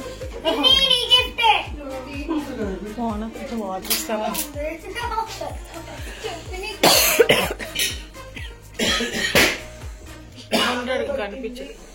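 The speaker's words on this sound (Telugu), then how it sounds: "ఎందుకు మీకు దగ్గు వస్తుంది?" Several coughs from a person at a children's birthday party at home, with kids chattering and playing throughout and brief bursts of clatter nearby.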